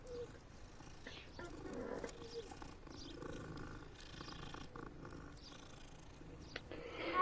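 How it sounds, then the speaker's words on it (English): A cat purring in the Hogwarts Legacy video game: a soft, low, steady rumble running throughout at close range but quiet, under faint ambient game sounds. "Another kitty."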